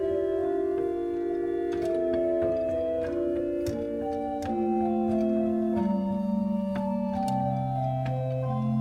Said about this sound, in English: one more stop on here on the grate, which is the Doppelflute, sounding like this, very soft